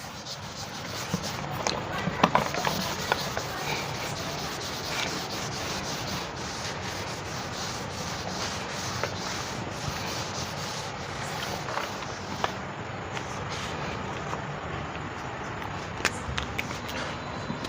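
Board being wiped clean of writing in a classroom, a steady close rubbing and scraping that continues for a long stretch with faint knocks mixed in.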